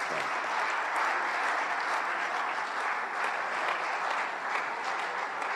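Sustained applause from an audience of diplomats at a New Year reception, a dense, even wash of many hands clapping at close range, steady and unbroken from start to finish.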